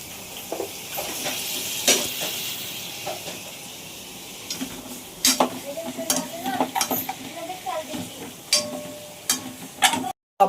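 Kupa fish frying in hot oil, a steady crackling sizzle broken by sharp spatters and occasional utensil clicks, close and fairly loud with no voices.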